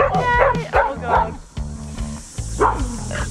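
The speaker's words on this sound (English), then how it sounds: "The dogs. The dogs are just checking on me." Farm dogs on a ten-acre lifestyle block in New Zealand bark and yip in several quick bursts close by, mixed with whimpering and a person's voice.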